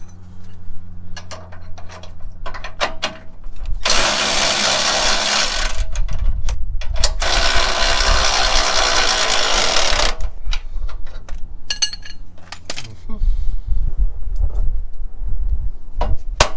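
A power tool driving a thin-wall socket while fitting a front radius arm bracket, sounding in two long loud bursts separated by short pauses, with clicking and clanking of tools before and after.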